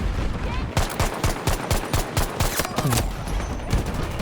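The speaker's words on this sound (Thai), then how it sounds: "ยิงหมดแม็กกว่าจะตาย" Rapid rifle gunfire in a shooting video game, with an M1 Garand in play: a loud, steady burst of close shots firing in quick succession for about three seconds, with a few more scattered shots afterward.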